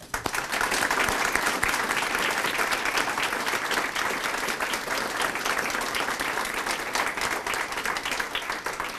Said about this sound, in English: Please join me in offering a round of applause for all of them.